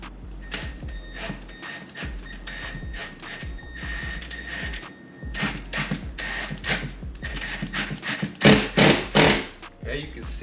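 A screw being driven through drywall into a wall stud while mounting a flat-screen TV bracket, heard as a run of short thumps and grinding bursts, growing louder toward the end, with talk alongside.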